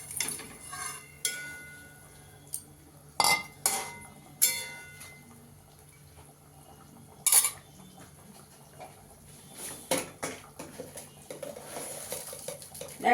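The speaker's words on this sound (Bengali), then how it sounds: "এবার পনিরটা দিয়ে দেবো।" Paneer goes into a simmering gravy in a pan, followed by close clattering of a spoon against the pan, scraping stirs and occasional sharp clinks over a soft background bubble, no talk.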